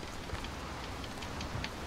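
Rain falls in the video game Dying Light, a constant close hiss with scattered sharper droplet taps on surfaces, and no talking.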